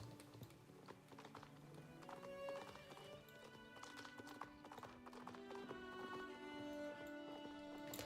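Brabant draft horses in the Star Stable Online game give steady clip-clopping hooves with an occasional neigh, set against layered game music and effects.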